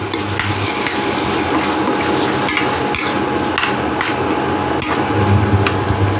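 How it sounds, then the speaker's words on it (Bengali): Spice paste for a Bengali bachelor-style chicken curry being stirred and sautéed in hot oil, with steady sizzling and repeated scraping, knocking strokes of a spoon against the pan throughout. "মশলাটাকে কষিয়ে নেব।"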